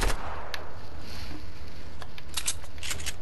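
Hunting rifle shots in a Fortnite duo match ring out as sharp, loud cracks, one at the start and a cluster near the end, over steady low game background noise with no talking.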